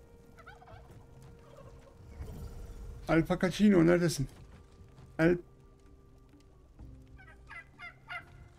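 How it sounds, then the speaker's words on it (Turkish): Turkey gobbling in the video game Soulmask, a loud burst of rapid warbling gobbles followed by a shorter second call, heard over a steady ambient game background while someone talks before and after. "O hindiye ne oluyordu öyle?"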